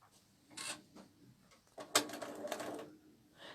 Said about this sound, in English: we just sew a couple of stitches to anchor the piece in